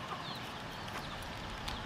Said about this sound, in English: I want to see this rooster